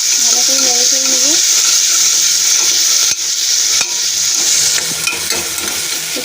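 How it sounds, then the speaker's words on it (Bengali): Tomatoes with garlic paste get stirred in a hot pan for a chickpea and potato curry: a loud, constant sizzling hiss with occasional utensil knocks, and a brief voice at the start. "টমেটো, ভালো করে নেড়ে চেড়ে নেবো।"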